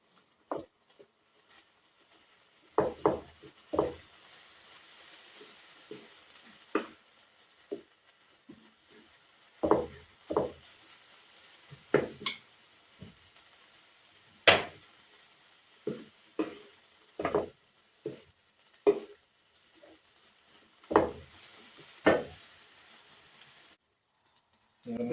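Washed, cut chicken pieces being stirred and flipped in a pan while making samosa filling, with scattered soft scrapes and patters at irregular intervals, close and fairly quiet, no talking.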